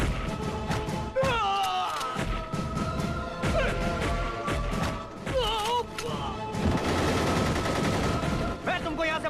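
Gunfire bursts through a tense film scene, rapid volleys and crashing impacts mixed with shouting voices and music, loud and chaotic throughout.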